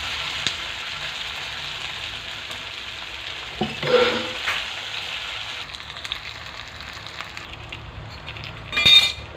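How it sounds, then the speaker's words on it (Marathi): Fasting patties go into hot oil in a pan, setting off a continuous bright sizzle with brief bursts of louder crackling and a few light clinks of utensils. "आता जे हे पॅटीस आहे ते आपण तेलात सोडूया"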